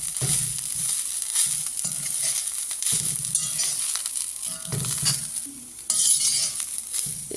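Coriander leaves roast in a pan with a little oil, giving a steady soft sizzle broken by repeated scraping stirs, close and moderately quiet, with no talk.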